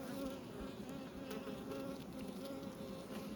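Honey bees buzzing at a hive, a steady close drone of many insects humming continuously with faint flickering wingbeats and no talking.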